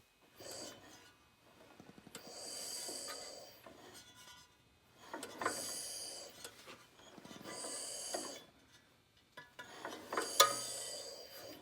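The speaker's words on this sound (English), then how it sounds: "Now I'm going to turn it over and see if the valves move accordingly to how they should." The engine of a Weldanpower 130 welder is turned over slowly by hand, giving quiet mechanical ratcheting and clicking in several separate bursts with pauses between, close and faint.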